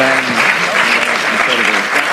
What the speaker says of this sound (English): let's give Apostle Selman a round of applause real quick